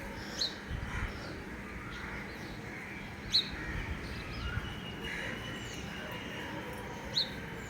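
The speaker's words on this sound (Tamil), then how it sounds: "கேட்குதா சவுண்டு? கிச் கிச் கிச் கிச் கிச்சுன்னு வருவாங்க" Small birds give three short, sharp chirps, faint and spaced several seconds apart, over a soft outdoor background hiss.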